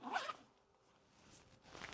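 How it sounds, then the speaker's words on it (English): A zipper on the deep inside pocket of a men's heated vest holding a power bank is pulled, with a quick soft rasp at the start and another near the end. "It is deep enough that you can zipper it up and close it up."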